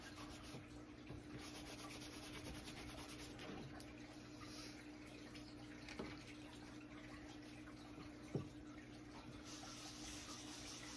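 Glitter is rubbed onto a craft surface by hand, a continuous soft scratchy sanding sound with a few faint knocks and one sharper tap, close and quiet, with no voices.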